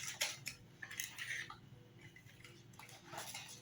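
Yogurt cake batter stirred in a bowl, a quiet run of irregular scraping and light clinking taps from the utensil against the bowl, close and faint with no talk.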